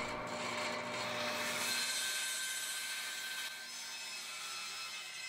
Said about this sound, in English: I can go to my bandsaw and finally remove the excess length from the body end of the neck